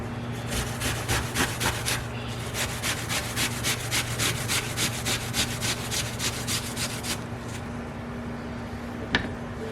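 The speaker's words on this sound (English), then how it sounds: "I cut out the core and then I grate the apple" An apple is grated by hand for pancake mix in a sequence of about twenty quick, even rasping strokes at a steady rhythm, close up, before the scraping stops and a single light clink follows.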